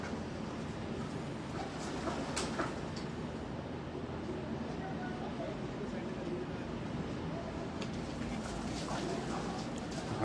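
Pigeons kept by a pigeon fancier coo softly among broad background noise, with low, faint calls repeating over a continuous ambient hiss.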